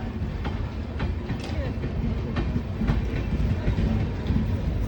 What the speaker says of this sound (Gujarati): ટ્રેન જો આખી ખાલી છે.